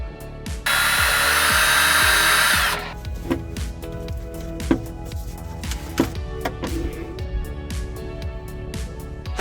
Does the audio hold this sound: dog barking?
no